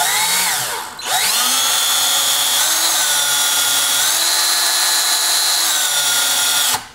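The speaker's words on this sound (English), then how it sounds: "spin up that drill and drill in." A power drill whines steadily at high speed, briefly dipping and spinning back up, then drilling continuously at close range.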